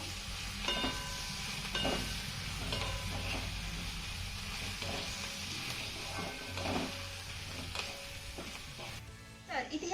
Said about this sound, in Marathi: आता ह्या वड्यांना आपण दोन ते तीन मिनिटं चांगल्या परतून घेऊया